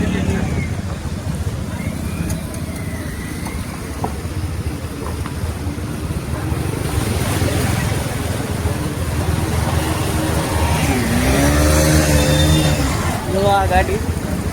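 A car drives half submerged through floodwater filling a village street in Mahuva, a continuous rushing, sloshing wash with engine noise and wind buffeting the microphone, while people talk throughout.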